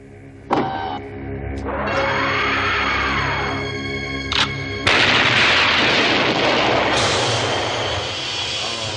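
A cartoon super cannon fires with a sharp blast, followed by a sweeping electronic whine and a second loud burst that rolls into a long roaring rumble, as the weapon disintegrates a mountain in an animated space-western series.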